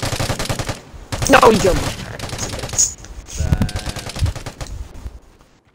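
Rapid carbine gunfire in the online shooter Vigor, loud bursts of shots crackling over several seconds as players shout excitedly over the shooting.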